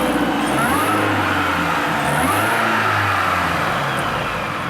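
A 2004 Mini Cooper S R53 with a supercharger, underdrive blower pulley, six-speed and over 313,000 miles, cruising through a residential neighborhood at about 3,500 RPM; a steady engine drone and road noise from inside the cabin, with no talk.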